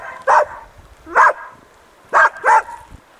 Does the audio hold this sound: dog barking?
yes